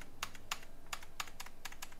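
Keys clatter on a Rapoo waterproof keyboard in bursts of quick, crisp clicks, about seven clusters spread over two seconds, close and clear with no voices.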